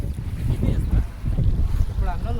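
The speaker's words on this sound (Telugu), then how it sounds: "బోటు తీసుకొచ్చినాం" A boat on the sea off a beach near hills, with rushing water and wind buffeting the microphone in loud, uneven surges across the whole stretch, and no voices.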